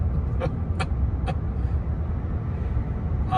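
Inside a Ford F-150 Lightning electric truck, a steady low road rumble fills the cabin as it accelerates, with a few faint higher ticks over the continuous drone and no talk.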